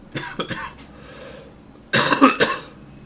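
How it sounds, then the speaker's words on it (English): A person coughs alone at close range: a couple of short coughs, then after a pause a louder, harsher burst of several coughs. "Sorry, I'm coughing."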